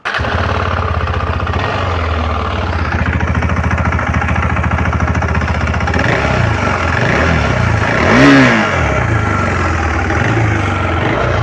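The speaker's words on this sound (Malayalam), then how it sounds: "നമ്മൾക്ക് ഇതിൻ്റെ എൻജിൻ നോട്ട് എങ്ങനെയുണ്ട് എന്നൊന്ന് സ്റ്റാർട്ട് ചെയ്ത് നോക്കാം." A KTM Adventure 390 motorcycle engine idles with a steady low rumble, giving a couple of short revs partway through before settling back.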